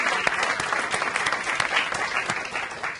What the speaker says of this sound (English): Let's give up a round of applause for Julie and her colleagues.